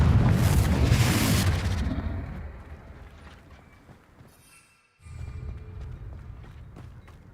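The Confringo spell in a wizard video game bursts as a loud blast that fades into a long rumble. After a brief gap a second low roar swells back in.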